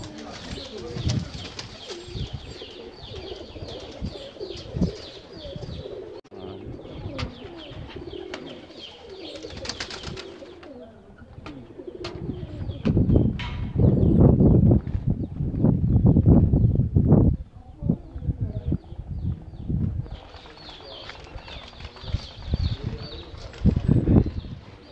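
Breeder pigeons in a loft coo in low, throaty bursts and flap their wings now and then, with louder fluttering clusters in the middle and steady background cooing throughout.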